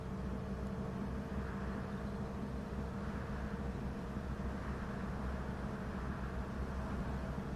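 Bus engine in a bus simulator game with a Stagecoach Beachball livery, heard as a steady, fairly quiet low drone that stays even throughout with no voices.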